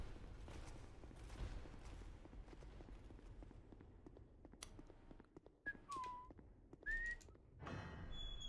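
Short whistled tones in a Dark Souls 2 game run, three brief pitch-sliding whistles in the second half, quiet, over low rumbling and scattered soft thuds.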